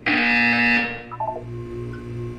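A loud electronic buzzer from Portal 2 sounds for under a second, followed by softer electronic beeps and a low hum.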